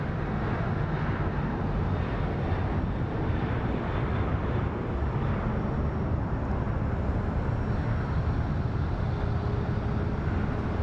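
A Boeing 777 airliner roars on departure at Phoenix Sky Harbor, a broad, steady jet rumble heard from a distance, continuous and unbroken with a faint wind-like hiss.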